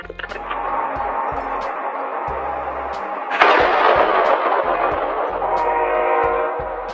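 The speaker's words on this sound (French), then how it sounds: "vous pouvez voir l'explosion du pneu d'un engin de chantier" A sudden loud blast of a construction vehicle's tyre exploding bursts out midway through a steady roar of heavy machinery noise, followed by a hissing rush.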